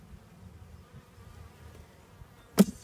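A low, steady drone of bees buzzing around a chick drinker feeder, close and continuous, ending in a brief soft knock.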